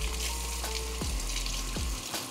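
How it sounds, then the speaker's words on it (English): Water runs steadily from a tap while a crab is rinsed and scrubbed with a toothbrush, a continuous close splashing rush with faint low thumps underneath. "Then I just kind of do a combination of rinse with the toothbrush as well."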